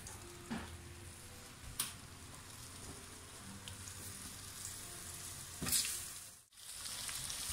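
Apples dropped into hot caramel in a pan for a tarte Tatin, a close steady sizzle and crackle with a few soft clunks of fruit landing and a brief louder burst near the end, no talking.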